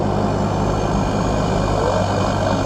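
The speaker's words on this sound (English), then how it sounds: "on the road, you're getting quite a good amount of engine noise, plus road noise, and the snorkel." Toyota Land Cruiser LC70 wagon with a 2.8 turbo diesel engine and a snorkel, driving on the road, gives a steady, loud cabin drone of engine and road noise with no talking.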